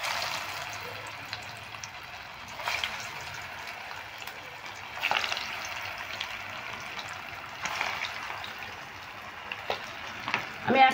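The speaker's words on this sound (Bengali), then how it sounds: "এবার আমি আস্তে আস্তে কাবাবগুলো ভেজে নেব।" Lentil (masur dal) kebabs frying in very hot oil in a wok, four at a time, a steady broadband sizzle with occasional louder crackling bursts, close and continuous with no talk.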